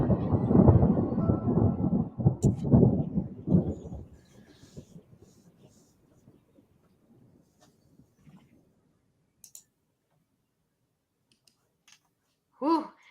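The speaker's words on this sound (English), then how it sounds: "That thunder at the end is just like ominous." Thunder from a stormy closing sequence rolls as a loud, deep rumble for the first few seconds, then fades into a faint, drawn-out grumble with a brief sharp sound near the end.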